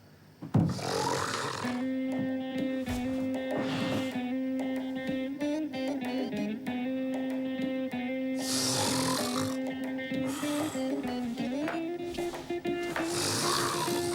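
Loud, drawn-out snoring with long rasping, roaring breaths repeated in steady cycles, close and dominant throughout.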